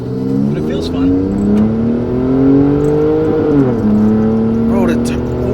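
Turbocharged car of just under 300 hp accelerating, steady engine drone rising in pitch, shifting, then climbing again, heard from inside the cabin, with voices in the car.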